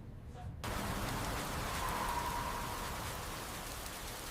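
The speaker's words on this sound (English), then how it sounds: "It is raining so hard" Heavy rain cuts in abruptly after a moment of quiet and then pours steadily as a dense, even hiss, loud and close, with no talking.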